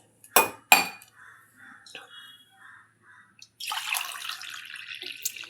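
A cooking pot is set down on a stove while morning porridge of ragi and corn flour is prepared: two quick, close metallic clanks, then quiet kitchen murmurs and a steady hissing wash of sound.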